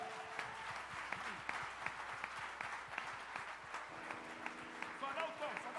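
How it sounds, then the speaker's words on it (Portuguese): A church congregation applauds through a celebration service, sustained clapping from many hands, fairly dense and even, with voices and music murmuring underneath. "Aplauda Ele!"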